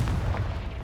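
A Confringo spell from Hogwarts Legacy goes off as a short, heavy booming blast with a deep rumbling low end that fades quickly, loud and close, with no voices.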